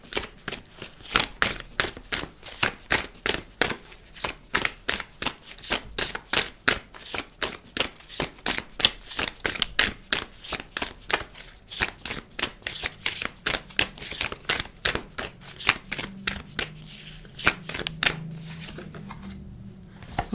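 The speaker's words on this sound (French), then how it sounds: "Je vais prendre une carte avec un dernier oracle." Oracle cards being shuffled in a rapid, steady run of crisp riffling flicks, close and fairly loud, with no talking, the handling slowing near the end.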